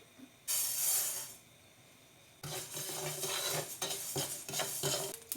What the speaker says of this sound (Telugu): నువ్వులు చిట్చిట అంటున్నాయి చూడండి